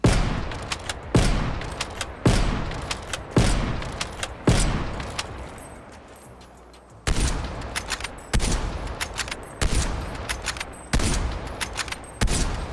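Heavy rifle fire from the Pellington and Tundra in Call of Duty: Black Ops Cold War rings out as loud single shots at a steady, deliberate rhythm, each with a ringing tail, pausing briefly midway before resuming.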